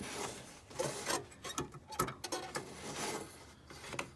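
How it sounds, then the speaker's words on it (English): Faint plastic rubbing and clicking with small scrapes and taps as a headlight bulb and its wire hinge clip are worked loose on a 2004 Saab 9-3, close and quiet, with no talk. "Just pull that up so you can get the bulb out."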